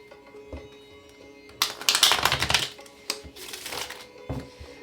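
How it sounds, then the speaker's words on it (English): Tarot cards being shuffled, a soft flurry of riffling and slapping in two or three short bursts with quiet gaps between, close and fairly faint, with light handling taps around them. "Okay, one more shuffle."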